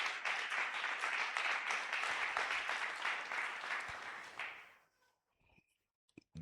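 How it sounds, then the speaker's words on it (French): Loud, sustained applause from a church congregation during a Sunday worship and thanksgiving service, dense clapping for several seconds before dying away into near silence with a few scattered claps at the end. "Est-ce que tu peux acclamer très fort pour Jésus?"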